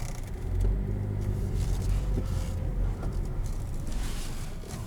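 A 2018 Hyundai Sonata SE with a 2.4 liter inline-four driving along, a steady low road rumble and engine drone heard from inside the cabin.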